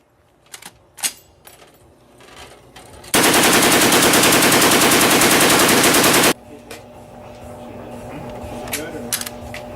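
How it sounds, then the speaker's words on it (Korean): Light machine gun chambered in 7.62mm fires a loud continuous burst lasting about three seconds, preceded and followed by scattered outdoor noises and distant activity. "LMG 사격 영상을 한번 보시겠습니다."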